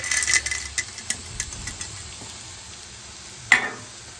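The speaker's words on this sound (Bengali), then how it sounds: "এবার কিন্তু এই বাদামগুলো দিয়ে দেবো।" Peanuts added to a frying beetroot mixture and stirred in a pan, with soft sizzling under light scraping and scattered clinks of the spoon, one sharp clack near the end.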